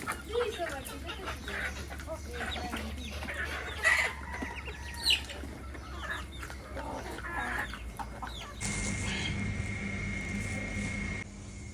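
Desi hens cluck and chatter close by on a rooftop, with scattered bird calls and rustling, and a steady hum entering near the end.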